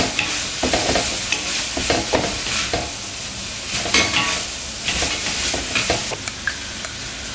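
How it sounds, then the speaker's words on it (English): Chow mein noodles being stir-fried with other ingredients in a wok, with steady sizzling and frying hiss broken by repeated scraping and tossing clatters of the utensil, close and busy throughout. "Loosen up the noodles and combine with the ingredients."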